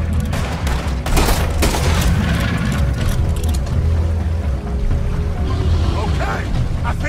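A video game firefight, with loud, continuous gunshots and booms packed tightly together. Voices shout under the shooting.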